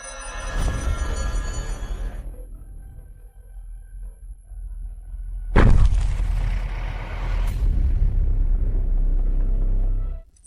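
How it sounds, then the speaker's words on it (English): Mutants ramming a door in a post-apocalyptic experimental building, a heavy deep impact followed by a sustained loud rumbling roar, after a quieter stretch of low droning. "Mutants are ramming the door."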